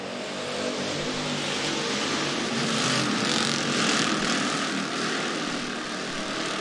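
A continuous loud roar of Sportsman race car engines during a heat race at Rapid Speedway, steady throughout with slight swells as cars pass, no voices heard.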